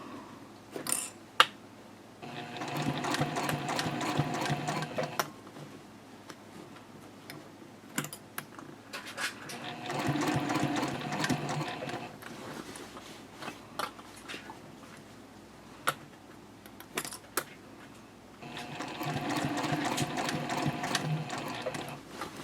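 A sewing machine stitches slowly around the curves of a Betty Bowler bag in three separate bursts of steady rattling, with quiet handling and clicks between them.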